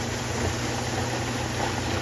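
An LG top-loader washing machine tub rotates counterclockwise at 220 RPM in diagnostic mode, giving a quiet, even mechanical hum over a couple of seconds with no speech.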